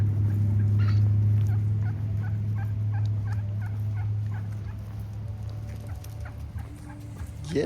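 Several wild turkeys gobble repeatedly in a road, with a steady low engine-like hum beneath the calls; the gobbles come in a series of moderately close bursts at fairly even volume.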